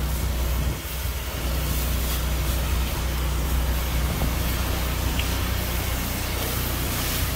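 Pressure washer spraying through an 8 GPM J rod with a 25-degree tip, a constant loud broadband hiss of water jet with steady pump drone underneath, unbroken for the whole stretch.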